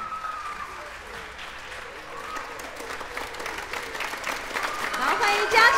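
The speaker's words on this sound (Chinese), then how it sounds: "请大家给予热烈的掌声好吗？" Audience applause at a school stage event honouring a group of children, a steady wash of clapping that swells louder toward the end, with voices mixed in.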